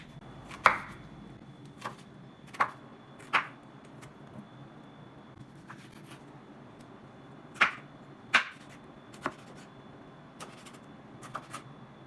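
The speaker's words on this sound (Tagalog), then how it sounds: "Now, let's cut the ingredients." A knife cuts ingredients for salmon sinigang on a board, producing about a dozen sharp, close chopping knocks at an uneven, unhurried pace over a quiet room.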